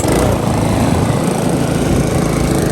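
Small lawn mower engine at full throttle while cutting grass, a loud steady buzzing roar held without pause throughout.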